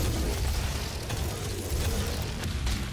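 Rocket launcher blasts in the shooter game Doom, a dense continuous roar of explosions with heavy low rumble and repeated bursts, loud and sustained throughout.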